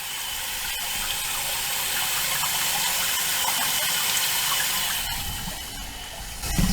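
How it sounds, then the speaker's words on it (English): Water rushes steadily into a tank fitted with a float valve, a loud continuous gushing that carries on evenly with a few faint clicks near the end. "So the water fills up, hits this lever down here, and it pulls up and shuts the water off."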